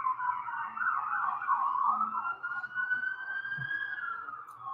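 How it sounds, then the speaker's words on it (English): An emergency vehicle siren passes by on a downtown street, a continuous wailing tone that rises and falls, fairly prominent over faint traffic rumble, with no talking. "Sorry, I got a siren going by."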